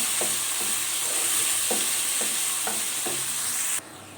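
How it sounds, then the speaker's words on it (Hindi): Garlic ginger paste fries in a pan under a steady loud sizzle, with a spoon or spatula scraping and stirring in repeated strokes about every half second; no talking. "अच्छी तरह से लहसुन अदरक को भी सौते करेंगे, यानी अच्छी तरह से भूनेंगे।"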